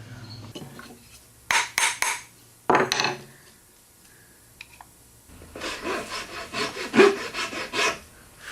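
Handsaw cutting wood for tenons in a woodworking shop: a few short bursts of rasping strokes, then a longer run of steady back-and-forth sawing, close and fairly loud with no talk.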